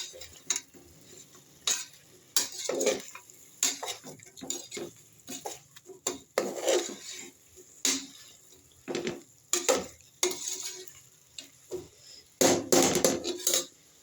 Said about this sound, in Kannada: ಹಾಗೂ ಇದಕ್ಕೆ ಸ್ಪೈಸಸ್ ಹಾಕೋಣ. Two minutes mix.